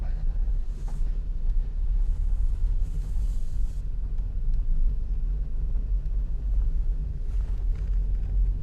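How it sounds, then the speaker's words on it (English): A 2019 Mercedes-Benz Metris Passenger van on a test drive on a sunny day in Scarborough, Maine, heard from inside the cab as a constant low road and engine rumble with occasional airy hiss bursts. "we're sitting here in the cab of the Metris Passenger van, and we're just going to go for a little test drive"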